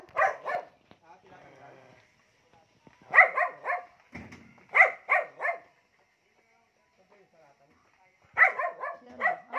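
A dog barks in short bursts, several quick barks at a time with quiet gaps between, close by and moderately loud, while people talk faintly in the background.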